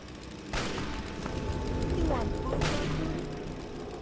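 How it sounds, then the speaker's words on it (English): Gunfire in Fallout 3: The Pitt, someone up high shooting at beer bottles; two distinct sharp reports about two seconds apart over a low rumbling ambience, with a voice talking faintly underneath. "Someone up here is shooting."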